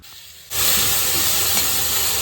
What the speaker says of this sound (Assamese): এতিয়া এইখিনি মই প্ৰথমে কেৰাহীত ধুনীয়াকৈ ভাজি ল'ম